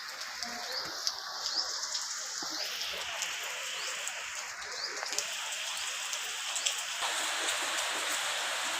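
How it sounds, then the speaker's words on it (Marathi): Steady rain falls outdoors as a continuous, even hiss of drops on surfaces, moderately loud and unbroken throughout, with faint bird chirps in the background. "हा बघा इकडं पाऊस आहे"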